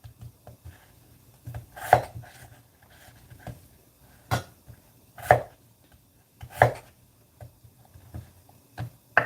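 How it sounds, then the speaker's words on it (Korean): A knife chopping potatoes into cubes on a cutting board, with sharp, close, intermittent chops landing every second or so over a quiet background. "감자는 깍둑 깍둑 썰어서 이렇게 준비해 주시고요."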